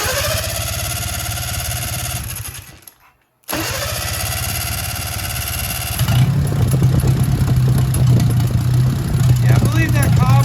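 A 1957 Hercules four-cylinder engine with a flooded carburetor, running low on fuel, cranks and runs loud and close with a steady rough drone, cuts out briefly, then catches and roars harder with a stronger low throb.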